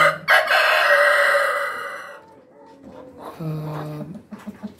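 Six-month-old Rhode Island Red breeder chickens in a breeding pen: a loud, close rooster crow fills the first two seconds, followed by quieter scattered clucks and short calls.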